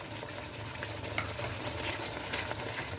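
Green onion tops dropped into a pan of mash daal, giving a steady, moderately quiet sizzle and crackle of frying with some soft stirring, continuous and close with no talk.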